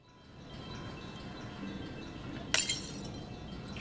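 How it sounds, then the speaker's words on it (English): A glass bird shattering in the video game Siren 2: one sharp, bright burst of breaking glass with tinkling fragments, heard over a low steady rumbling ambience. "That she shatters the glass bird."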